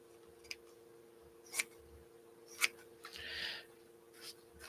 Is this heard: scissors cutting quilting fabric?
yes